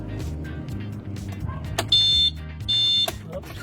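The alarm of an NWOW EMC1 electric four-wheel vehicle gives two short, bright electronic beep bursts over background rumble and faint speech.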